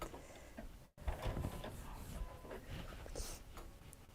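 An embroidery machine stitches a quilt design through tacked background fabric for a Kimberbell Cup of Cheer project, giving a steady, busy mechanical clatter that breaks off for a moment near the start, then resumes.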